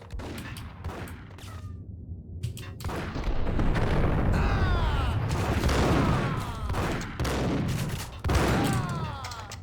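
Gunfire in the Max Payne video game, including shotgun blasts, comes as a loud, dense barrage of overlapping shots and booms that keeps going almost without a break.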